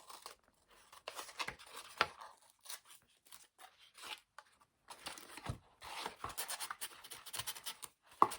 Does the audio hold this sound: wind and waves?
no